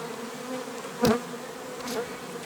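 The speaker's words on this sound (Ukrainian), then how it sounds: "отак вібрують бджоли танцівниці." A dense, steady drone of many honeybees buzzing in a hive, close by, with a brief louder buzz passing near the microphone.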